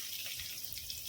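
Water splashes into a pan of frying shrimp on a rooftop, a brief, faint hissing rush heard alone.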